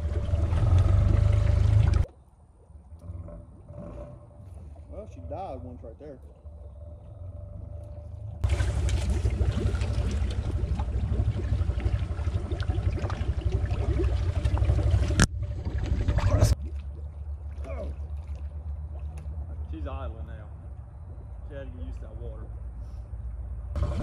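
A Honda Pioneer 500 UTV engine idles while standing in water, a low steady rumble that starts loud, drops sharply, then returns in uneven stretches, with a person talking at times.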